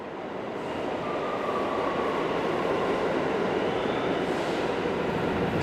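A subway train rumbling through a New York subway station at night, a loud, sustained roar building over the first second then holding steady with a faint high squeal, no voices.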